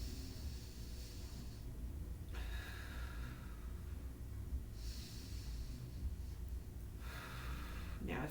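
Slow deep breathing during a back body expansion exercise, several long airy inhales and exhales at close range over a constant low room hum, with no talk.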